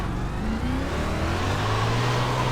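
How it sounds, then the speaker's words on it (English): A 410 big block sprint car engine in the iRacing dirt racing game roars steadily at high revs, with a continuous loud drone and shifting pitch throughout, no talking. "410 big block sprint car. This thing is a beast."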